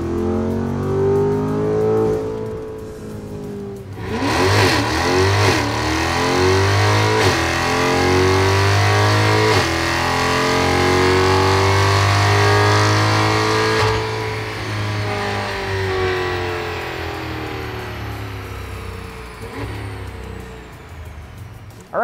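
A C8 Corvette running an E85 tune revs hard on a dyno or test run, its engine note climbing and sweeping through repeated loud pulls, then falling and settling as the runs finish.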